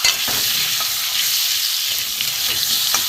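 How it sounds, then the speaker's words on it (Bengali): Potato strips fry in mustard oil with a steady, loud, dense sizzle that holds throughout, with faint soft scrapes of stirring underneath and no voices. "এখানে আমি আলুগুলো ভেজে নেবো"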